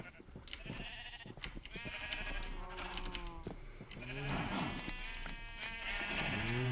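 Sheep bleat in Minecraft, several wavering calls that overlap and rise near the end, close and fairly loud over a quiet background.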